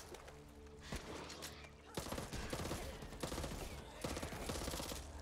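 Gunfire in the co-op zombie shooter Back 4 Blood, with dense bursts of rapid automatic shots and heavy bangs layered over a busy game mix, loud and continuous throughout.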